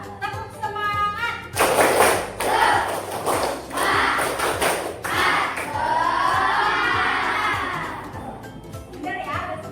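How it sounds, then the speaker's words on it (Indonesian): A group audience, apparently children at a school guidance session, performs a rhythmic spirit clap, with quick patterned bursts of claps mixed with loud chanting voices, followed by shouting and cheering from the crowd. "Nah, tepuk semangat."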